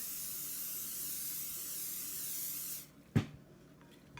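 Olive oil spray hisses steadily from an aerosol can onto cubed challah bread in a kitchen, one long close spray of nearly three seconds, followed by a short clack.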